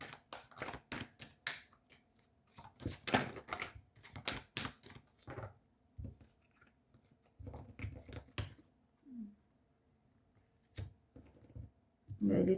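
Tarot cards are shuffled and drawn in a quiet room, giving scattered soft flicks, taps and brief riffling bursts with gaps between, close and fairly faint, with some speech in places.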